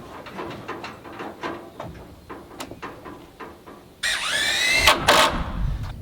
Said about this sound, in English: screwing it together with some structural GRKs